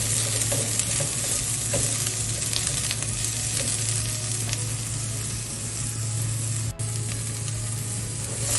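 Onion sautéing with ginger in a pan, a steady loud sizzle with stirring scrapes running throughout, no talk.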